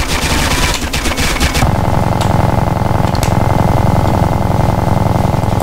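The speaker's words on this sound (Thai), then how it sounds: "มันยิงผมไม่ตายอยู่ดีอ่ะ" Sustained automatic gunfire from GTA San Andreas, loud and dense throughout, with a burst of sharper shots at the start settling into a steady, rapid rattling roar.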